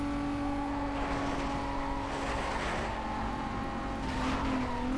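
Racing car engine from Need for Speed Most Wanted (2005) drones steadily under a five-speed gearbox, with a sustained tonal hum, rising intensity and faint tire noise in the mix.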